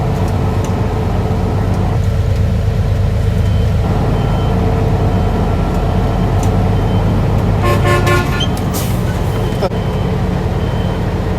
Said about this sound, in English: Why were you honking your horn